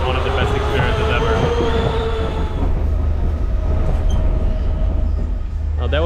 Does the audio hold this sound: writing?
no